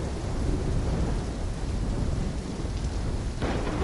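Thunderstorm in the video game Call of Duty: Black Ops 3, a dense steady roar of heavy rain with low thunder rumbling underneath, constant and loud throughout with no voices.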